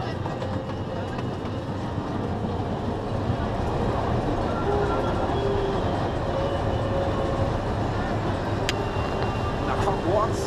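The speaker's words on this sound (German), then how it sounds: "ein paar Eindrücke aus dem Heidepark-Express" The Heide Park Express amusement park train running on rails, a steady rumbling roll with faint clicks and squeals throughout, and voices chattering in the background.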